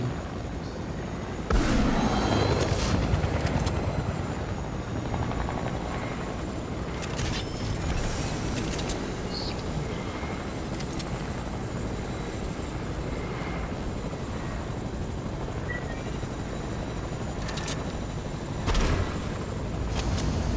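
A loud, steady helicopter engine roar fills the scene in Fortnite, with bursts of explosive noise and rumbling action sounds, no talking.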